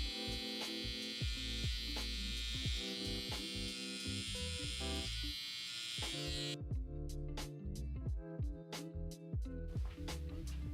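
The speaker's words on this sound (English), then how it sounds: "flip the clippers upside down, and this is an easy way to get these lower lines sharpened" Electric hair clippers held upside down buzz while sharpening the lower lines of a freestyle haircut design, a steady close hum that is briefly interrupted by short clicks and stops, with no talking.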